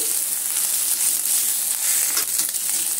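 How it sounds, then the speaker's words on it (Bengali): Ginger-garlic paste sizzles with onions in a pan as it is stirred, a steady close crackling hiss that carries on without a break, with light scraping now and then. "আদা রসুনটা পেঁয়াজের সঙ্গে এইভাবে নেড়ে চেড়ে এইভাবে ভেজে নিচ্ছি।"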